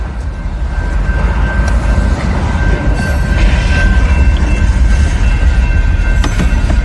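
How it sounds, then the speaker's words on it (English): A train rolls past at close range during on-scene police activity in Brazoria County, Texas, a loud steady rumble of rail cars with clicking wheels and a faint squeal, continuous for the whole stretch with no talk. "That was a train, everyone."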